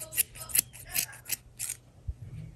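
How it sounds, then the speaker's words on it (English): Sharp scissors snipping through a yarn pom pom, a run of about eight close, crisp cuts in quick irregular rhythm, then quieter trimming. "if you have a good scissor, you keep cutting until it gets into so small"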